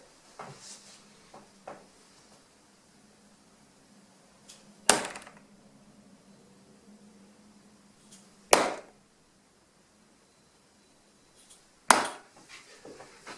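Three sharp thuds of 18g Voks Bomber darts with spring-loaded points hitting a dartboard, spaced a few seconds apart, each a crisp impact with a short ring, among faint quieter clicks in a quiet room.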